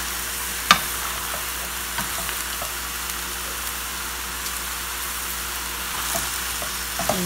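Stir-fried spaghetti with shrimp and pork is tossed in a pan, giving a steady, close sizzle with a few sharp clinks of the utensil against the pan.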